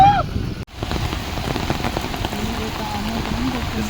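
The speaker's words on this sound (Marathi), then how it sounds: "कसला पाऊस पडतोय" Heavy monsoon rain pours down steadily in Dapoli, Konkan, a dense continuous hiss of drops hitting surfaces close by, with a brief voice at the very start.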